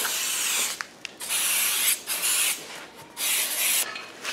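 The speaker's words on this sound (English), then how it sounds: "What I like to do, silicon spray." An aerosol can of silicone spray hisses out several short bursts, separated by brief pauses, close and fairly loud, while working on a Moto Guzzi V9 motorcycle.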